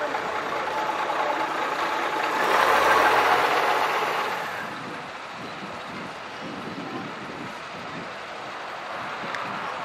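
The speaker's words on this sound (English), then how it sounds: "I just got a feeling it's the petrol engine as it went past" A 1950s Austin FG lorry with a petrol engine drives past at a steam fair. A mid-pitched engine drone with some wind swells as it goes by, then fades into a quieter steady rumble.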